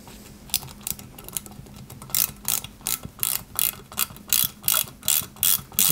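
Close ratcheting screwdriver clicks as small screws go into a part of a 1/8-scale Nissan Skyline GT-R model kit. The clicks start sparse, then settle into an even, repeating burst pattern in the second half.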